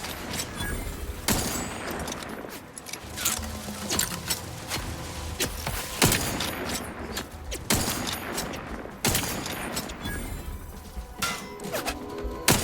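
Gunfire in the sci-fi shooter The Outer Worlds 2 sounds as repeated sharp shots and short volleys over a steady combat din, moderately loud, with no talk.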